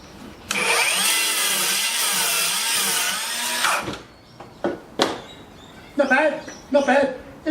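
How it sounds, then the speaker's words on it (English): A small battery-operated saw cuts through timber with a loud, steady, whining buzz that lasts about three seconds, then stops. Brief speech follows afterward. "it's a battery operated little saw"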